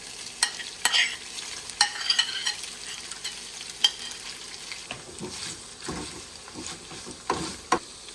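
Small tofu pieces fry in oil in a pan, giving a soft continuous sizzle broken by sharp stirring clicks and scrapes every second or so, close and alone without speech.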